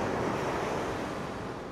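Sea waves washing onto a fine-sand beach at Cannes, a steady, close, broadband surf roar mixed with wind buffeting the microphone, continuous throughout and without talking.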